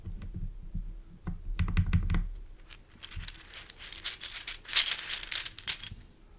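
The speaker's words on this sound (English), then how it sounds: "It is called a QWERTY keyboard." Fingers typing on a QWERTY computer keyboard, with quick irregular clicks in short bursts, close and fairly quiet, mixed with some crinkly rattling.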